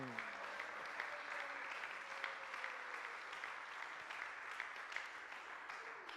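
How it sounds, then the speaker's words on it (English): Spectators at a women's 10m air pistol SH1 world championship final clap steadily for a coach and shooter being introduced, an even, moderately distant patter of many hands with faint crowd murmur. "big applause for the coach Kadri Akün and Aysel Özkan"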